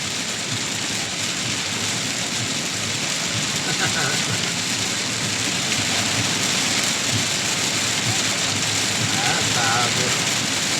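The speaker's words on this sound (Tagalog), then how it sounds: "Ulan! Lakas-lakas ang ulan!" Heavy rain pours down in a dense, unbroken hiss, loud and steady throughout with no pauses, as if drumming on a vehicle during a downpour that hides the road.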